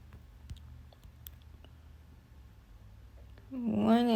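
Computer mouse clicks while uploading to a website, a few sharp, quiet ticks spread across a hushed room, followed near the end by a brief louder voiced sound.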